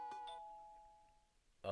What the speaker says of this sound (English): the doorbell rings